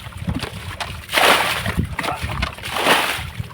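Water sloshing and splashing in a rain-filled paddy field during the first plowing of the season, with several close, uneven surges and gurgles over about three seconds.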